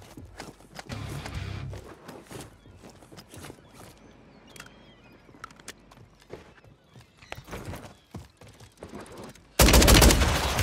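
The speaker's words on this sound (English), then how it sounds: "I'm getting shot up by somebody else" Scattered gunfire and impacts crackle through a video game firefight, irregular shots at mixed distances, ending in a loud burst of sustained fire near the close.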